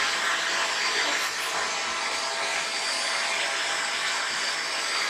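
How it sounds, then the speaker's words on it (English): A child runs a vacuum cleaner across the floor, a loud, steady broadband whir that holds close and continuous for the whole stretch with no talking. "He wanted to go ahead and vacuum."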